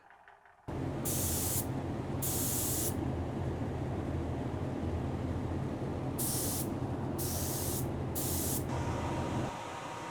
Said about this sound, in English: Use our little Iwata gun. We're gonna do these dark gray color called smoke.